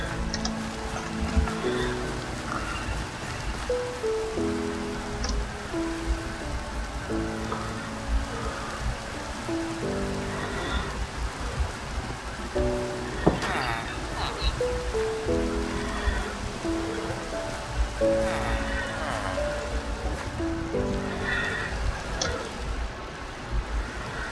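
Rain falling in the Minecraft PC game, a continuous soft patter under repeated low tonal game sounds and occasional clicks over a long stretch.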